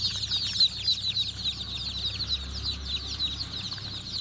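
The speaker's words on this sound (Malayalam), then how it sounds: "ഇതാ നല്ല പുള്ളിക്കോഴികളൊക്കെ ഉണ്ട്." Soft, repeated clucking from native chickens nearby, a quiet steady series of short calls with faint background noise and no talking.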